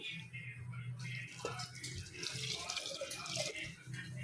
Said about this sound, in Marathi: आता याच्यामध्ये टाकते पाणी